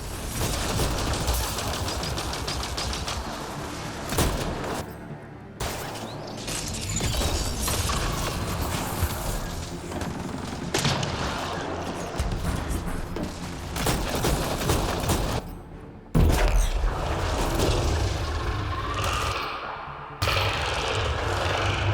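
Sustained bursts of automatic gunfire and heavy weapon fire in a Mass Effect Andromeda battle on the frozen planet Voeld, loud and dense throughout with brief gaps, mechanical clanks and shattering impacts.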